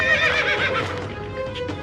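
A horse neighs and whinnies loudly and close by in a cartoon story about bandits riding off, the drawn-out call rising and wavering for nearly two seconds with faint hoof clatter beneath, no talking over it.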